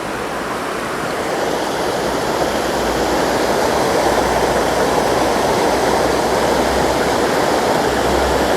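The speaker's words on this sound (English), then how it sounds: "Nice little waterfall, huh?" A small waterfall in Zion National Park, Utah, where water drops over rocks, pours as a steady, dense, broadband rush, close and constant with no voices.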